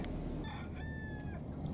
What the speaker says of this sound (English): I think there must be a rooster on that boat.